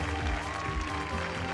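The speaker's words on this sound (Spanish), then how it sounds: "Please, a big round of applause for them." An audience claps and cheers at the Parapan American Games closing ceremony in Santiago, a dense, steady roar of applause with an announcer's voice over it.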